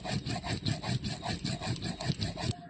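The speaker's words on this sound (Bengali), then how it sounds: "জিরেটা এবার বেটে নিচ্ছি।" Cumin being ground on a grinding stone in a village kitchen, a steady rhythmic scraping and rubbing of stone on stone, close and loud, repeating strokes about every quarter second before stopping abruptly.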